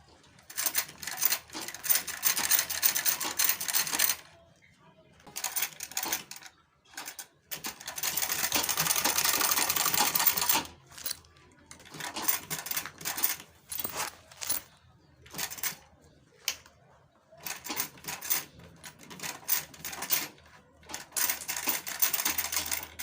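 Sewing machine stitching a fabric wave bag in rapid mechanical bursts, some brief and one sustained run, separated by short pauses. The machine is moderately close and mostly heard alone.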